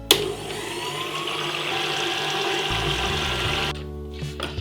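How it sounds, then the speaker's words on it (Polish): An electric mixer runs at low speed, whipping heavy cream with condensed milk: a steady whirring motor hum with a faint liquid churn that holds for almost four seconds, then cuts off, leaving quiet clatter. "Włączam teraz moją maszynkę na małe obroty na około 5 minut."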